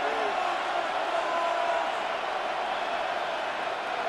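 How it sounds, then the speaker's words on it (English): A steady wash of stadium crowd noise from a Madden 26 football simulation, a Bills versus Bengals wildcard playoff game, roars continuously at an even level without distinct cheers or breaks. "this crowd doing their best to make a lot of racket"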